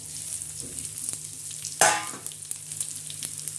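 Whole spices and coriander seeds hit hot oil with browned onion in a pan for a spicy black chicken curry, giving a soft continuous sizzle with one sharp, louder crackling burst partway through.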